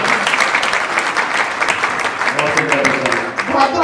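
Audience at a Jain temple poetry gathering bursting into loud, lively applause, a dense steady clatter of many hands with some voices mixed in.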